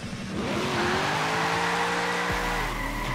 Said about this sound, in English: The engine and the tires screamed and left a cloud of smoke.